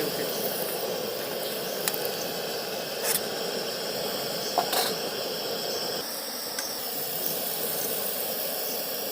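Mango-flavoured luchi, puffed flatbread, frying in hot oil: a continuous soft hiss and bubbling crackle, fairly close and steady, with a few brief sharper pops and no talk.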